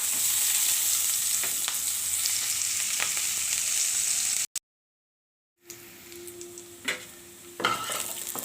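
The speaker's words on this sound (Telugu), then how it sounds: "ముందుగా కోసి పెట్టుకున్న కొంచెం ఉల్లిపాయ అండి, 2 పచ్చిమిర్చి, కూడా ఒకసారి ఫ్రై చేద్దాం." Chopped onion and two green chillies fry in a pan for an egg gravy curry, giving a steady close sizzle with stirring scrapes, cut by about a second of silence before the frying resumes with clinks of the spoon.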